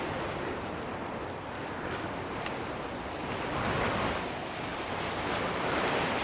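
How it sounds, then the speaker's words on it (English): Strong wind gusts outdoors by a hedgerow, a constant loud roaring rush buffeting the microphone throughout with no voices. "It's really windy."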